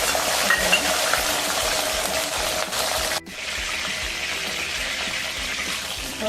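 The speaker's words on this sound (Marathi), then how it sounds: "आता आपण त्याला परतून घेऊया तेलामध्ये भाज्या आता हे भाज्या आहे ना सर्व तळून घ्यायच्या आहे" Vegetables, including peas, fry in hot oil for a veg Kolhapuri curry. A steady, close hiss of sizzling continues throughout, with a brief break midway, and no talking is heard.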